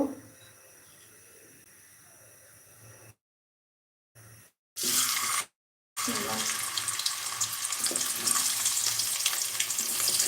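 Onions frying in oil for birista, a loud, bright continuous sizzle that starts after a few short bursts and gaps, holding steady and close.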